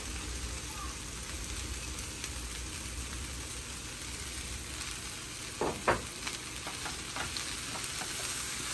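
Long beans sizzling in a hot pan with ready-made shredded coconut, a steady close frying hiss with a few brief stirring clatters partway through, a voice speaking softly in the background.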